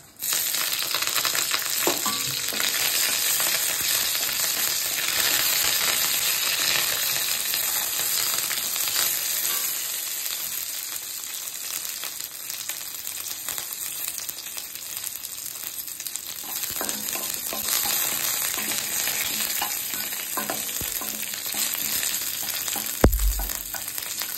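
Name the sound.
curry leaves, mustard seeds and green chillies frying in oil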